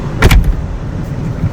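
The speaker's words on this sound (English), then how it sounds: "And then close the door." A Hyundai Tucson car door swings shut with a single solid thud near the start, followed by a low, quiet cabin rumble with no talk.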